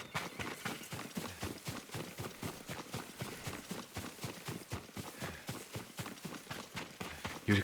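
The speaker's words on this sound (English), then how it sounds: "Yuriko's horse." A horse in the video game Ghost of Tsushima trots with rapid, evenly spaced hoof clip-clops. The steady rhythm is moderately close and quiet, with no talking.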